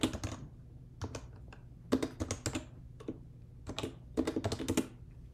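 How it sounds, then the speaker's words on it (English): Someone types on a computer keyboard in irregular bursts of quick, crisp keystrokes separated by short pauses, close and fairly quiet. "I will type help with the function name."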